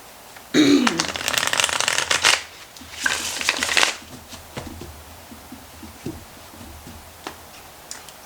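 Two quick bursts of tarot cards being shuffled up close, riffling and flapping, followed by a few light taps and clicks.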